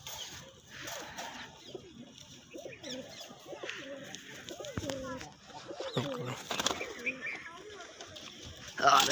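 Pigeons cooing close by in soft repeated throaty calls, with chirps and someone talking over them in a quiet outdoor setting.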